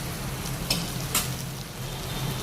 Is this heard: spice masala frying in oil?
yes